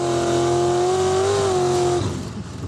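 A drag racing car at a drag race school accelerates hard from a standstill, a loud, sustained engine whine holding a strong tone, then cutting off abruptly into a rougher, fading roar.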